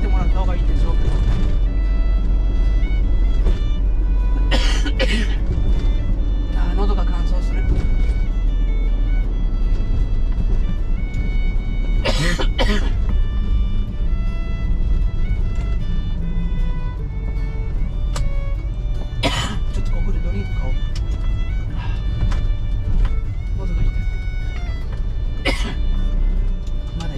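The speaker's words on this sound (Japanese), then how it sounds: "乾燥するとどうしても咳込んでしまう" Several sharp coughs and throat clearings burst out at intervals over a steady low rumble from an industrial waste truck cab, close and fairly loud, with some talking in between.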